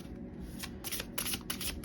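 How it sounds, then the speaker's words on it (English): Tarot cards get a carnival shuffle: a soft, continuous rustle and swish of cards sliding over one another, with a few brighter bursts as the deck is pushed around, close and fairly quiet with no talk. "I usually give them a good carnival shuffle"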